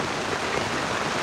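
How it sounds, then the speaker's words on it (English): Heavy rain pours down hard and steady on a campsite awning, a dense, constant hiss with no pauses and no voices. "it started raining really hard"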